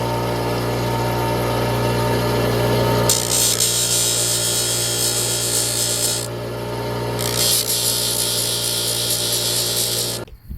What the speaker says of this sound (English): I got a grinding wheel in here, and that's what I use.